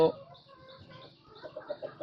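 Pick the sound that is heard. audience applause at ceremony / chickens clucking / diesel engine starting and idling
chickens clucking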